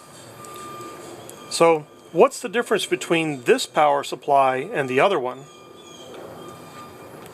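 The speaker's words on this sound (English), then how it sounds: "Garbage truck." A garbage truck reverses outside, its steady high beep tone running faintly through the background while someone talks close by in a workshop.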